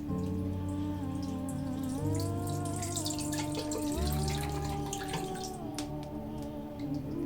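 Tea drains and water drips during a tea-leaf reading, a soft steady patter of drops under a sustained tonal music bed, with no talking.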